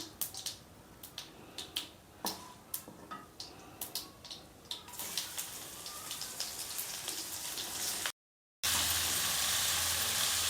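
Okra frying in hot oil: crackles and sizzles, with sharp pops early on, then a denser, steady frying hiss after a brief gap.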